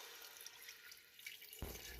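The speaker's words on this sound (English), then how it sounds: "I'll add some water here." Water runs from a tap or is poured into a pot of black bean soup with salmon, starting abruptly near the end of a quiet kitchen moment, close and moderately loud.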